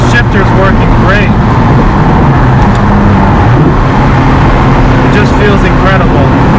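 A Ferrari 360 Spider engine drones steadily and loudly while the car drives, blended with road and wind rush, and a voice is partly heard over it.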